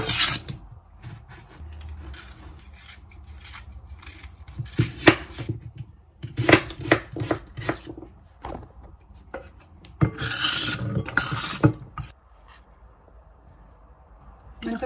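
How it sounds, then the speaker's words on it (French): A knife chops fruit into small pieces for lemonade on a board: bursts of quick, close, dry chopping taps and scrapes, separated by quieter pauses. "C'est mieux couper tout en petits morceaux, parce qu'on va tout servir après dans un verre."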